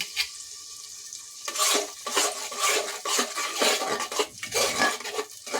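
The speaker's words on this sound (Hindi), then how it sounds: "मसाले डालने के बाद हम इसे चम्मच से अच्छे से चलाएंगे।" A spoon stirring ground masala paste of onion, chili and tomato in a pan, repeated scraping strokes with a soft sizzle, close and fairly loud after a quieter start.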